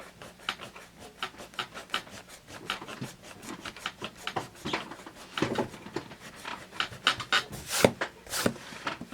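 A Pink Pearl eraser rubs pencil marks from a Dixon Eldorado line on paper, giving quick, soft scratchy strokes in an uneven rhythm, close up and fairly quiet with no talking.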